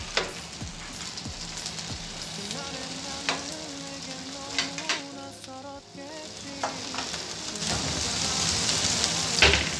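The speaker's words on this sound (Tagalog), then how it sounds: "pwede na natin ilagay ang mga hipon para lutuin na ito." Shrimp fry in hot oil in a pan with a dense, continuous crackling sizzle, close and loud, with scattered pops and spatters throughout and no talking.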